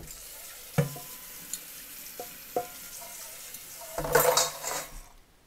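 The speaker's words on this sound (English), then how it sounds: "So we got our vinegar percolating." Vinegar simmers in a pan for chicken vindaloo, a low bubbling hiss broken by a few sharp clinks of a utensil against the pan, then a louder burst of sizzling stirring near the end.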